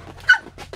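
A puppy at a campsite lets out a couple of short, high yips and a small whimpering bark, close and fairly loud, with brief pauses between them.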